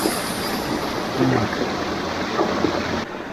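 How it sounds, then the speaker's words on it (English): Steady rushing water from a waterfall and stream beside a free hot spring in the Taupo Volcanic Zone, a continuous broadband wash with brief voices talking over it. "This is where you have to be over by the waterfall."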